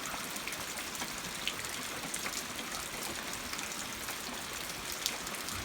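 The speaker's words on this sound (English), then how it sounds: "Yeah, it's still raining." Rain falling steadily outdoors on a ranch: a soft, continuous hiss with scattered faint drop ticks, even and fairly quiet throughout with no voices.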